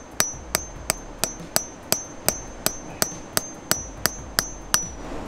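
A hammer strikes a chisel into rock while splitting it to hunt for fossils, sixteen sharp metallic clinks in an even, steady rhythm, close and clear with no talking.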